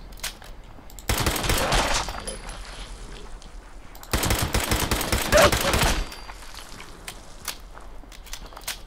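Two long bursts of rapid automatic gunfire in the video game Fallout, each lasting a couple of seconds and separated by a lull with scattered faint clicks and steps.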